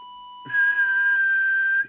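A steady whistle-like alignment tone on a Realistic TRC2002 UK CB radio during transmit alignment, a pure high tone holding level for over a second after a faint background hum.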